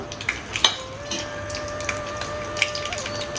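Cinnamon, cloves, cardamom and slit green chillies fry in hot oil, a light crackling sizzle with a few sharp metallic clinks of a utensil against the pan, no talking.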